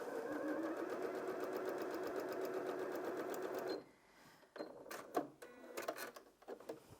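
Janome M100QDC sewing machine stitching fabric with a quarter-inch guide, a steady rapid mechanical whir and needle clatter running loud for about four seconds, then stopping, followed by scattered clicks and small handling noises.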